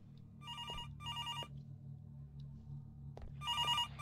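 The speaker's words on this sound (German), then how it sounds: "ich muss wieder ans Telefon gehen" Video game telephone ringing in three electronic bursts, the first two back to back, then a pause before the third, close and clear over a low ambient drone.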